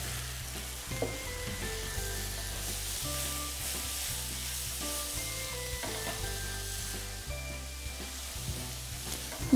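Mushrooms and onion frying in a pan, a steady bright sizzle with crackling pops and occasional stirring clatter, close and continuous with no talking.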